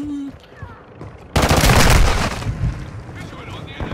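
Heavy automatic gunfire in Call of Duty bursts in loudly after a quieter moment, sustained rattling shots with explosive thumps continuing to the end, with voices present.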